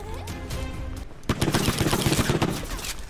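Rapid video-game gunfire as boxes are shot to release ammo power-ups, a dense burst of loud shots starting about a second in after background game music and effects.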